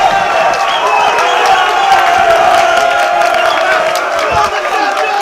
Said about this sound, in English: The crowd go wild for their man, kledi disha